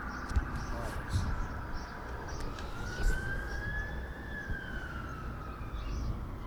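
A siren wails steadily in the distance, rising and falling slowly over a constant background of traffic and outdoor noise.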